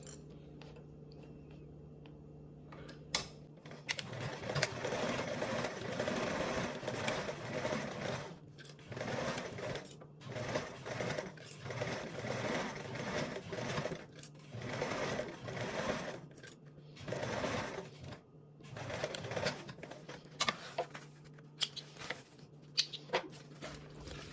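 A sewing machine stitches a seam with 3/8 seam allowance in steady rapid runs, briefly pausing and restarting, close and clear with no talk.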